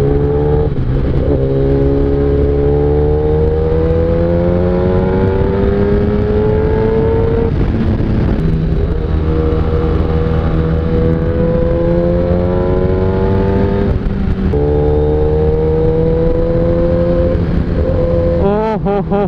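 A Kawasaki ZX10R or BMW S1000RR superbike engine revs hard while riding, rising in pitch repeatedly, shifting and climbing again across several pulls, loud and close throughout.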